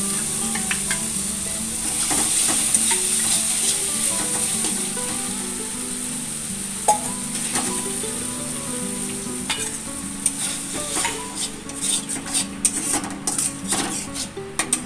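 Masala fries loudly in oil as poppy seed paste is added, a continuous close sizzle with scattered sharp clicks and spatula scrapes from stirring, growing busier toward the end, with no talking.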